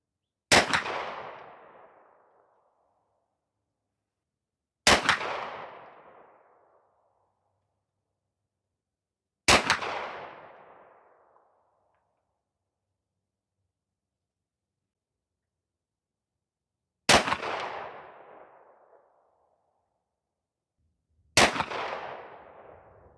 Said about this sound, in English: let's get to shooting our groups and see what the 1 ounce 20 gauge silver slugs can do